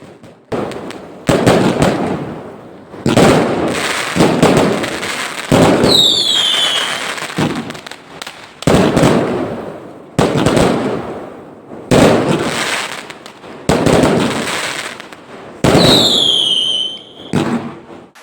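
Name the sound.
fireworks exploding in night sky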